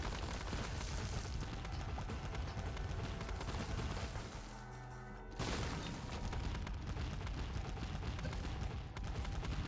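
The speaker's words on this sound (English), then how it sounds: "those explosions always hit the edge of the room" Dense bursts of explosions from The Binding of Isaac Repentance, a modded run, pound in rapid succession, loud and chaotic, with a brief drop-off near the middle before the booming barrage resumes.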